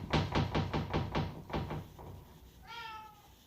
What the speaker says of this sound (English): I hear a lot of knocking, but I don't see anything.